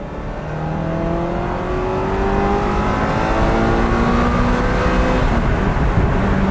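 A 1995 Ferrari F355 Spider engine revs steadily and loudly from inside the cabin, harmonic tones rising and falling through the gears with a continuous rumbling drone.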